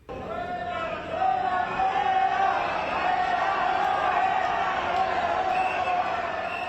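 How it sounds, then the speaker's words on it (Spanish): Minority shareholders of Ecopetrol boo and shout together at a shareholders' meeting, a dense, sustained crowd roar of voices that swells after the first second and holds steady throughout. "Quienes gritan son los accionistas minoritarios de Ecopetrol y con ese abucheo pidieron la salida de Ricardo Roa"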